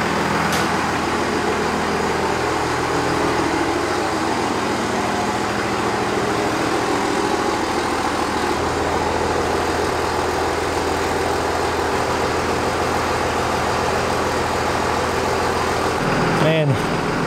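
An old pickup truck engine idles loud and steady after starting, a constant low rumble with a rough throb that runs the whole time, ending in a short clunk near the close.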